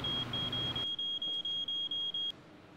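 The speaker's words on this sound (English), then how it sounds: "What is that beeping? Oh man, I think it's my pager" A pager gives a shrill, high electronic tone, first held steadily and then broken into a quick series of about eight short, evenly spaced beeps, fairly loud and close.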